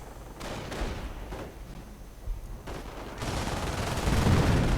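Artillery fire in a real-time strategy war game, a rumbling barrage of dense overlapping blasts and crackling impacts that thickens and grows louder toward the end, with no talking over it.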